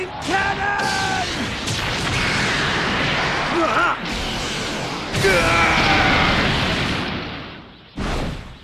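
Special Beam Cannon energy beam attack from Dragon Ball Legends, a mobile fighting game: a charging whine and shouting voices give way to crashing, exploding blasts and a long roaring surge, ending in a sharp final hit, loud and dense throughout.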